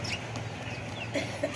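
A rooster in a village yard gives a few short clucks, moderately close, over steady background noise, with no one talking.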